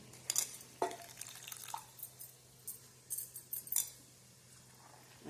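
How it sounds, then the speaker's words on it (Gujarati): Fresh fenugreek leaves dropped into an eggplant curry in a pan for a Gujarati mixed vegetable dish make scattered soft rustles, wet squishes and light clinks of a stirring spoon, close and quiet, with short pauses between bursts. "અને હવે આપણે એમાં નાખી દઈશું મેથીની ભાજી"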